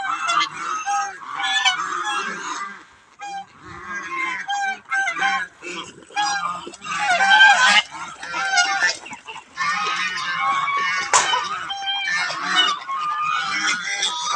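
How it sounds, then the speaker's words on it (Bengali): Domestic ducks being given feed in a farmyard, a busy chorus of honking quacks in repeated bursts throughout, fairly close and loud, with brief gaps between flurries. "এটা হচ্ছে আমার হাঁস। আমি এখন আমার হাঁসে খাবার দিব"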